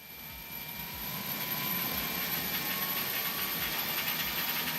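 The number 2 engine of an Airbus A300 in a flight simulator spools up in a steady jet whine and low rumble, swelling over the first couple of seconds and then holding at a constant roar.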